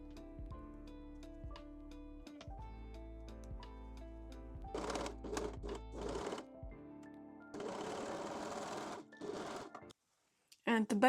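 A sewing machine stitches the centre front seam of a pair of bra cups pinned right sides together, running in several bursts of rapid, steady mechanical chatter with short pauses between, a voice talking over parts of it.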